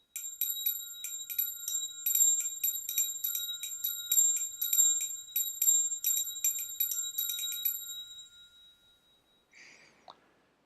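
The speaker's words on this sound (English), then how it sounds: "That's actually one of the chimes from the bell tree." Sampled percussion chime from a bell tree, a long cascade of bright metallic tinkling strikes that ring clearly and slowly thin out, followed by a faint final ping.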